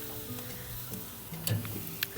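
Steak sizzling as it cooks on a barbecue grill, a steady soft frying hiss with a few light ticks and scrapes, close by and fairly quiet.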